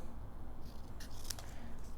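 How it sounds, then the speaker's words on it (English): Scissors snip through a paper tag to cut notches, a faint quick pair of crisp cuts close by over a quiet room hum. "and just cut using my scissors"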